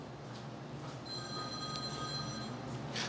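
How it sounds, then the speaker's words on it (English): A telephone bell rings softly in a room while a Hangar 9 P-47 Thunderbolt model plane is being assembled, thin steady tones sounding over a constant background hum. "Dad's phone's ringing."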